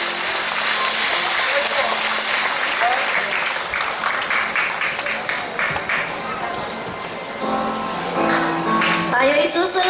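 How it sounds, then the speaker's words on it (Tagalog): Church congregation applause during a worship service, a loud, dense round of clapping that carries on for about ten seconds, with some voices and cheers and a musical swell rising near the end. "Malakas na palakpak po sa Panginoong Diyos"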